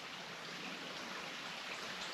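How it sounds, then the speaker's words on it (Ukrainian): A very small, narrow stream trickles and babbles in a continuous, even wash of soft water sound, close by and undisturbed by voices. "Сьогодні риболовля на мікрорічці, такий малесенький струмок."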